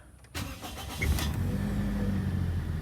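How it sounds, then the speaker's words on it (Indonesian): A cold car engine at a workshop cranks briefly, catches, and settles into a steady, close idle. "sekarang kita hidupkan, kita kontak mobilnya"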